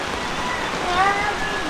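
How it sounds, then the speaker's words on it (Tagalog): Rain falls steadily in a light, continuous hiss for a moment outdoors as showers begin, with a faint tonal sound briefly rising over it. "habang hindi pa nalakas ang ulan"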